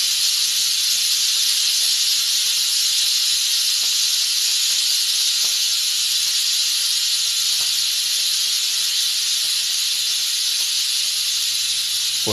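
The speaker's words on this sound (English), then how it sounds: "Let the steam flow." A loud, steady hiss of steam venting from a Crockpot Express pressure cooker cooking spaghetti and meatballs, continuous and unbroken from start to finish with no voices.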